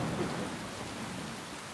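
Steady, dense rain pours down in a storm, with a low thunder rumble rolling beneath the continuous hiss of drops on surfaces, loud and close throughout.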